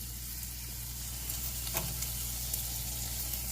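Mixed vegetables simmer in a pan with a constant, even sizzle and hiss, a low steady hum underneath and a faint tap or stir near the middle.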